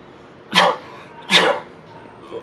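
Two imitated sneezes, done by a voice, come one after the other about a second apart, each a sharp close burst, followed by a faint breath.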